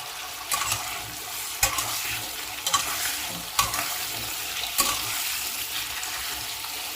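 Halved pointed gourds fry in a pan for a vegetarian morich jhol, a continuous near sizzle punctuated by about five sharp spatula scrapes at a steady pace.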